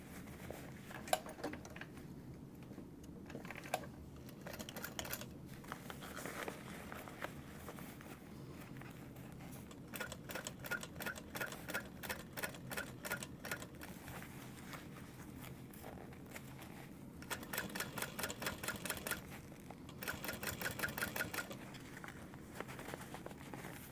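A sewing machine top-stitches the side of a small mini backpack, running in short quiet bursts of rapid even stitching separated by pauses, faint against a low room hum.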